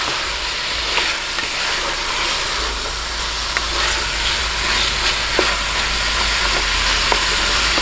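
Garlic and onion sizzle in hot oil while being sautéed for a mung bean stew, a steady loud frying hiss broken by occasional faint scrapes and stirring clicks, with no talk.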